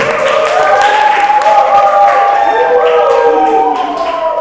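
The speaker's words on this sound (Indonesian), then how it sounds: "Tepuk tangan dulu untuk kelompok 1." A classroom of students claps for a presenting group, brief lively applause heard under overlapping chatter and excited voices close by.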